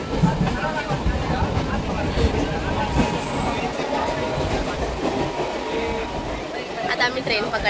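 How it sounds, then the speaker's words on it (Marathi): A moving passenger train on the way to the Matheran hill station gives a steady rumble and clatter, with a babble of passenger voices and a speaking voice over it. "आता आम्ही ट्रेन पकडलेली आहे."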